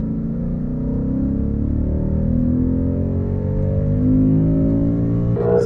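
Ford Mustang GT with a 450 hp V8 accelerating in automatic, a deep, steady engine drone rising in pitch as revs climb, loud and close with no talk.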